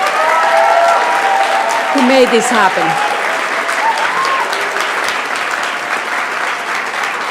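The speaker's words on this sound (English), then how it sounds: "giving a round of applause to the staff, administrators, and the faculty" Audience applause fills a graduation ceremony in a theater, steady clapping throughout, with someone speaking over it.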